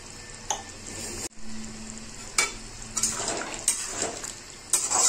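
Drumstick and potato curry frying in a pan as water is poured in and stirred, giving a steady hiss with several bursts of sizzle and clatter from the spoon.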